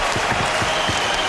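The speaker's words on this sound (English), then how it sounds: "this crowd here at the Joe giving the Red Wing penalty killers a hand" Brief burst of steady applause from the hockey crowd at Joe Louis Arena in Detroit, recognizing the Red Wings penalty killers during a game against the Anaheim Ducks, with a few louder thumps standing out in the dense clapping.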